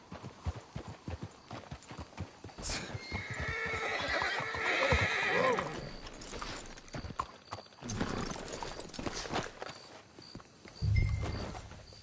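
Hooves clop along steadily in a video game, then a horse lets out a loud whinny midway before the hoofbeats carry on.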